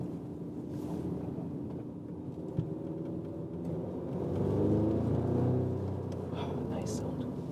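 An Audi S3 Sedan quattro with 300 hp drones steadily while on the move, its low engine rumble swelling briefly mid-way, mixed with wind and road noise and some talk over it.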